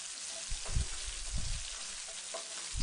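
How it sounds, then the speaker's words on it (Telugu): Chopped green chilies and cumin seeds are stirred around a hot pan, a continuous frying hiss broken by a few soft scraping swishes of the spoon, close and steady throughout. "పచ్చిమిరపకాయ ముక్కలు, జీలకర్ర వేసుకుని బాగా కలుపుకోవాలి"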